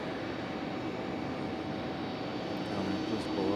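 A JetBlue Airbus A220 airliner passes close by at Raleigh-Durham International, a steady broadband engine roar holding level throughout and swelling slightly near the end.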